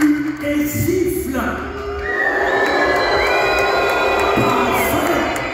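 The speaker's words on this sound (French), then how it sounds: "Tout le monde hue et siffle." Spectators at a Parc Astérix theme park show boo and whistle together, a loud mass of crowd voices with shrill whistles rising and sliding above the din.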